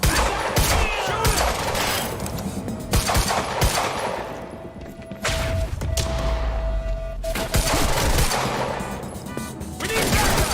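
Quantum Break firefight: loud, close automatic gunfire in rapid, sustained bursts with thuds and crashes, running almost continuously with short breaks, mixed with shouting.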